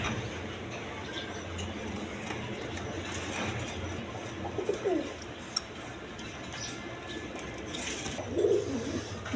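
A pair of milk-khaki pigeons coo softly in a loft, with two brief rounded coos standing out over a steady background hum.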